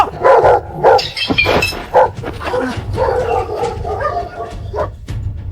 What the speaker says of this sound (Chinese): 七哥，狗咬我了